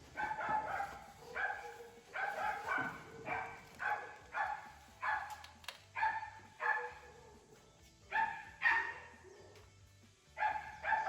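A dog barks repeatedly in a steady series of sharp, evenly spaced barks, fairly close and loud, with faint background noise between them.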